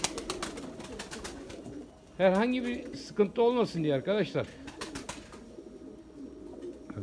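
A male pigeon coos at a female in a loft, a burst of loud, close, rolling coos after a stretch of someone talking, with his voice returning briefly near the end.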